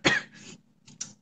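A single sharp cough followed by a softer throat-clearing sound, close and brief, with a faint second hack near the end.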